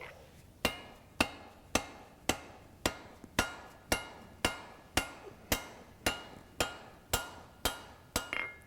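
A hammer strikes hot metal at a forge, shaping a center punch from coil spring, in a steady rhythm, about fifteen sharp ringing blows roughly half a second apart, close and loud with no talking.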